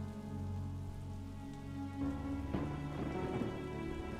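Steady rain falls across an outdoor spot, a dense continuous patter of drops on surfaces that thickens slightly partway through, with no voices.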